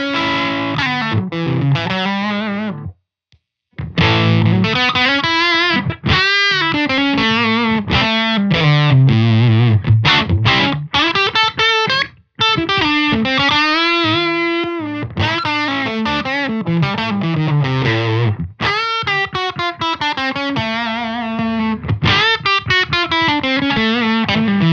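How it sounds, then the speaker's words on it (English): Distorted electric guitar solo played through a Spaceman Apollo effect pedal, loud and continuous with sustained melodic notes and fast picked runs, a brief break near the three-second mark, no talking. "I have an Apollo here from Spaceman, and it sounds like this."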